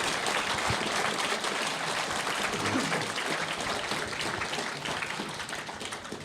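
An audience at a retro gaming YouTubers panel at PLAY Expo Blackpool gives a round of applause, a broad, even wash of clapping that fills the hall and fades slightly toward the end.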